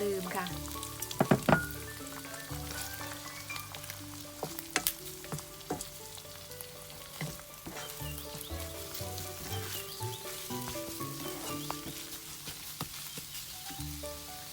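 Two eggs sizzle in oil while glass noodles are stir-fried with dried shrimp and pork belly, a steady crackling fry with scattered spatula clinks and stirring, over soft background music.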